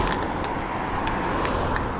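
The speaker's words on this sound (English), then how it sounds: "Still quite a few cars out on the road, as you can hear." Continuous low road rumble as cars pass nearby, a steady traffic hum with faint swells from individual vehicles.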